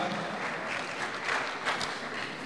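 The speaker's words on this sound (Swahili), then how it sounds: "Makofi tafadhali" Applause from an audience at a nurses' ceremony in Tabora, a steady wash of clapping heard from a moderate distance without a clear start or finish.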